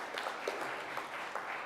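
Audience applause at a women's economic empowerment conference, a soft, fairly distant patter of clapping that stays even throughout.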